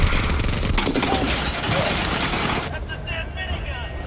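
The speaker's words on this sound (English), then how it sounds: "the Samaritan here uses really big bullets" Rapid, heavy gunfire from the Samaritan gun firing big bullets in a movie scene, a loud continuous barrage with crashing impacts that cuts off abruptly into quieter rumbling, with voices underneath.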